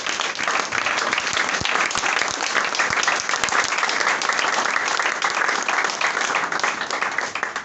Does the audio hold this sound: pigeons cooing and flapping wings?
no